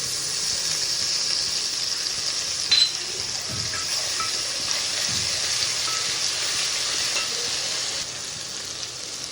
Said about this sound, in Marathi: हा मसाला थोडासा तेलात फ्राय झाला की ह्यात आपण टाकतो आहे आला लसूणची पेस्ट